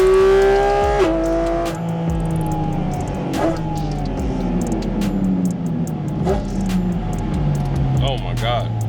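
The engine of a 2023 Porsche 718 Cayman GT4 RS revs hard toward 9,000 RPM, a loud close howl with sweeping pitch climbs and gear changes, heard from on board.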